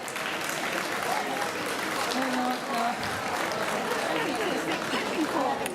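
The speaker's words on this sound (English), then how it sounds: "oh, thank you, finally applause" Crowd applause at the Equitana 2018 equestrian expo after a talk on finding an equine partner, a sustained mass of clapping with voices and chatter mixed in throughout.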